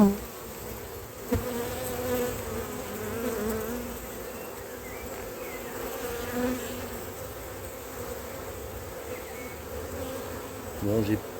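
A steady, dense drone of many honeybees buzzing around an opened hive of calm bees in rainy spring weather, loud and close throughout with slight swells and a few nearby knocks.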